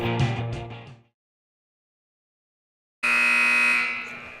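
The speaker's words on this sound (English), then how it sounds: "Second buzzer sounds at the Dog Pound" A loud, tonal electronic buzzer blares twice at a high school girls basketball game in the Defiance gym known as the Dog Pound: a one-second blast, a silent gap of about two seconds, then a longer second blast.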